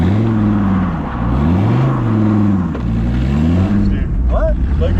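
A 1400 HP twin-turbo drift Viper spins donuts with a loud, continuous engine roar whose pitch sweeps up and down in waves as the throttle rises and falls, with tire noise mixed in.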